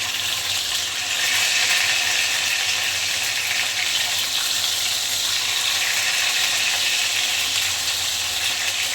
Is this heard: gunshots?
no